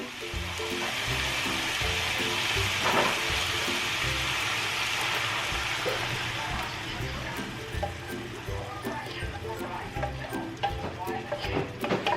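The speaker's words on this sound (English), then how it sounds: "So I have this sauteing." Onions and aromatics sauteing in a pan for Filipino ginataan lanka, a steady broadband sizzle running throughout with mixed-in background noise and faint scattered clicks, close and fairly loud.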